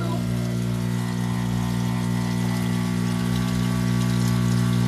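A small water pump hums steadily while drawing water through the plumbing of a Kombi camper van, a constant low drone with a faint watery wash throughout.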